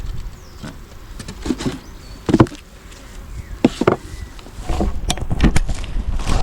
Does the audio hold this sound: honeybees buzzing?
yes